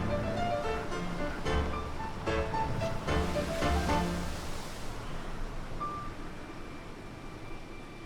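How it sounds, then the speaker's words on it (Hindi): Huge ocean waves roll and surge in a broad, steady wash of surf, with a louder churning stretch early on that fades to a softer rush, heard from on or near a boat out at sea. "यहाँ विशाल लहरें हैं।"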